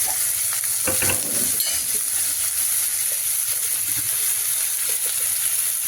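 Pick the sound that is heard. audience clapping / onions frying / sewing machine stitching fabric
onions frying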